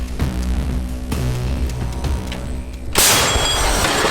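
Heavy artillery booms from a Nona-K self-propelled gun-mortar: low rumbling blasts with a sharp, loud report near the end, close and powerful, followed by ringing noise.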